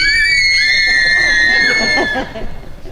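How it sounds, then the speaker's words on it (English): Loud, sustained high-pitched screaming from several actors playing trolls in a stage play, piercing and continuous for about two seconds before trailing off into rougher noise. "the trolls screamed."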